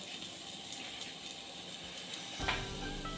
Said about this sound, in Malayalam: നമുക്ക് ഇതിലേക്ക് ചീര ഇട്ട് കൊടുക്കാം